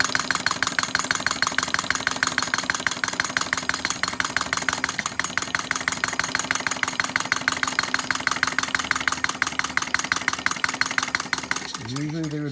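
A small flame-powered engine runs on fire, drawing its flame in with a rapid, even chuffing and clicking rhythm that sounds close and moderately loud, with a brief whirring change near the end.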